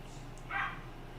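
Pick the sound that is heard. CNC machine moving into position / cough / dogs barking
dogs barking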